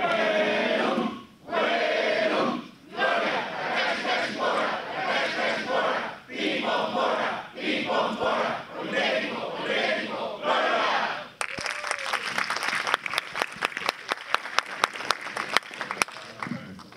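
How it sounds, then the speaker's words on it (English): A crowd chants an institutional cheer in loud rhythmic bursts with short pauses between them at a university delegation welcome ceremony, then breaks into sustained clapping and scattered sharp claps. "We would also like to invite Ms. Vargas Jacobo to lead the institutional cheer."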